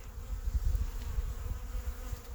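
A soft, close hum of many bees buzzing together at hive frames, fluttering and wavering continuously with small swells in loudness.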